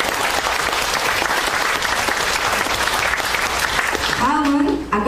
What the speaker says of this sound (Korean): 호명이 될 때마다 아주 큰 박수로 맞아주시면 감사하겠습니다.